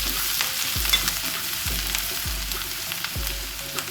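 Chopped ginger and garlic sizzle steadily in a hot pan for a spicy bitter gourd masala fry. A few dull thumps of stirring sound close by, with no talking.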